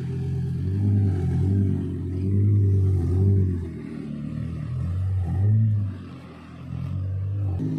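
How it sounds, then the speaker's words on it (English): Lamborghini Gallardo Final Edition supercar rolling in with a deep, loud engine note, revving in repeated swells and dips over a rumbling low drone, close by. "we've also got Parvez coming in with the Gallardo"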